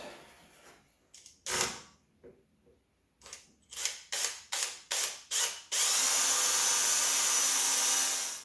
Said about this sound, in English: Now we can start drilling these out.